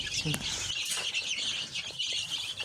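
Small chicks hatched from an incubator peep in a dense, continuous high-pitched chorus at close range, with a low clucking or voice briefly underneath at the start.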